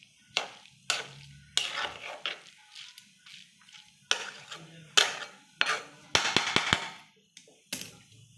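Spring onion greens stirred in a pan, heard as scattered close scrapes and knocks of a spoon against the pan in irregular bursts, with quiet gaps between them.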